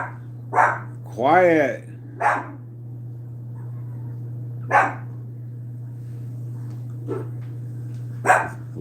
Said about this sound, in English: It's making my dog go crazy.